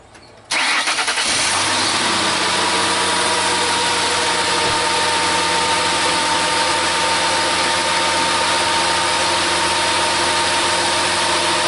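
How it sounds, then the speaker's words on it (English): A Ford Taurus engine cranks and catches, then settles into a steady, loud idle with a constant low hum that carries on to the end. "So let me reach over here and start the car."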